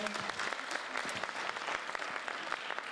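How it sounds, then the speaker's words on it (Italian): Sustained audience applause for a performer named Matteo at a children's song festival, a dense, steady wash of many hands clapping at moderate loudness throughout, with no voices over it. "facciamo ancora un applauso a Matteo"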